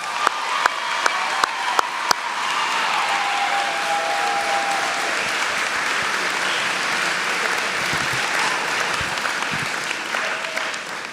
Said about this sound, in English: So one more round of applause for the graduates